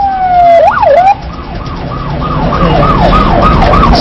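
An ambulance siren sounds loud and close while responding to a road accident: a rising and falling wail, then a rapid repeating yelp cycle over engine and road noise.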